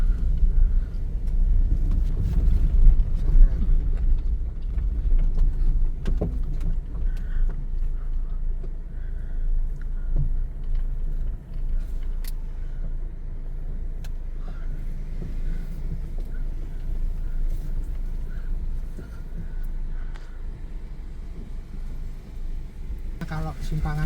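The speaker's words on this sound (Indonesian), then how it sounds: "Ada mobil." Car engine rumbling steadily at close range as it creeps slowly along the narrow, bumpy road to Ngiroboyo Beach in Pacitan, East Java, with faint scattered bumps and no talk.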